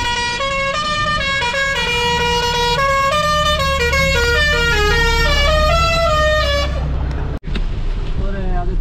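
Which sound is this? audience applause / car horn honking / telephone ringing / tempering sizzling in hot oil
car horn honking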